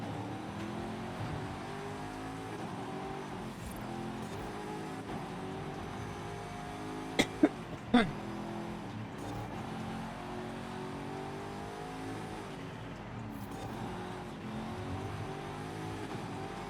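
A performance-upgraded car engine drones and revs through sustained acceleration, with rising and falling pitch as it works through gears, heard steadily from inside the car, with two sharp clicks or knocks midway.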